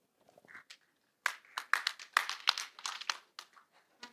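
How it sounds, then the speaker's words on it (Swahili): An audience at a county security forum in Busia applauds, scattered claps building into a burst of clapping that lasts a few seconds and then tapers to single claps. "Tumuongeze makofi"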